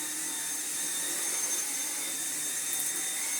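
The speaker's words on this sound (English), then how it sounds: "the old ancient venerable V7 could still be classed as a modern vacuum cleaner" A Dyson V7 cordless stick vacuum cleaner runs steadily up close, a constant bright high-pitched whine and airy rush with no pauses or voices.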